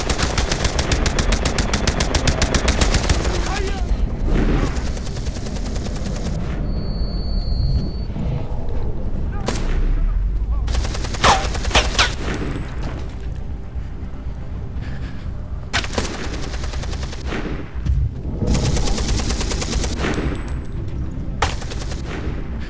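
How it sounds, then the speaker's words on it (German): Rapid bursts of automatic gunfire in the video game Beyond: Two Souls, loud and repeated, with sharp single shots and pauses between volleys amid a steady background rumble. "während die Schüsse weiter prasseln"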